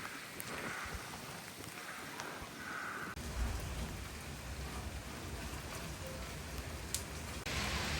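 Heavy rain falling ahead of Hurricane Milton, a steady broadband wash that grows denser and louder after a few seconds, with low rumbling underneath and no voices.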